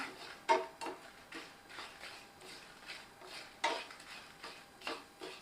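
Shallots, poppy seeds, coconut and garlic are dry roasted in a pan, heard as quiet intermittent scrapes and clinks of a spatula stirring against metal, spaced out and fairly soft.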